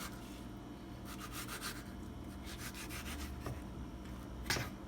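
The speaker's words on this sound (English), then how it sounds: "Kind of angle the knife down onto the skin so it's like a scrape." A thin knife blade scrapes the skin off an aloe vera leaf in soft, rasping strokes, faint and close, with several short bursts of scraping and a sharper scratch near the end.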